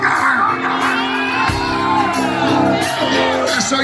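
Concert crowd at a show at the Bottom Lounge in Chicago, loud and close, with sustained shouting, whoops and yelling from the audience that carries on without a break throughout.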